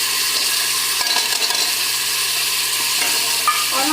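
Tomatoes and spices hit browned dal tadka in a hot pan, a steady close sizzle of frying with scraping stirs and a few light utensil clicks against the pot.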